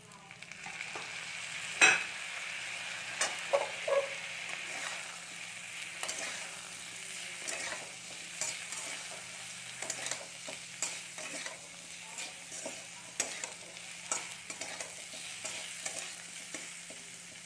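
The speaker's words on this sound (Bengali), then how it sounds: "চলুন বন্ধুরা, এবার একটু ভালো করে কষিয়ে নিই" Paneer posto with fried paneer and chopped coriander is sautéed. A quiet, steady sizzle sits under frequent spatula scrapes and light knocks against the pan, and one sharper clatter comes early on.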